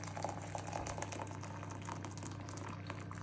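Boiling water from a kettle pours steadily into a measuring jug to measure out 300 millilitres, a continuous moderate splashing and bubbling close by with no talking.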